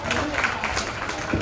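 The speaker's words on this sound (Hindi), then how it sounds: "आदरणीय किरण प्रकाश जी शास्त्री को जोरदार तालियां महानुभाव।" A short burst of audience clapping at a ceremony closing a Jain religious education camp in Mumbai, dense and steady throughout.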